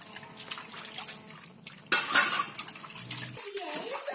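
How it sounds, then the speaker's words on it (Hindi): Dishes and pots are washed with water at a village home, with clattering metal utensils, a louder burst of splashing and clinking partway through, and faint voices in the background. "और मम्मी ने भी यहाँ पे बर्तन धो ही दिया लगभग।"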